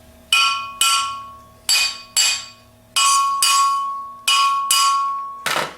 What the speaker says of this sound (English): So what we do is tap it from the rear.